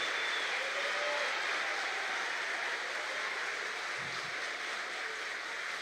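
A church congregation applauds during a sermon, a steady, even wash of clapping that holds at a moderate level throughout, with no clear pauses.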